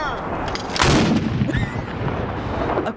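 A ceremonial cannon fires a single loud, booming blast at a centennial service for the Battle of Vimy Ridge, and the echo rumbles on outdoors for a few seconds afterward.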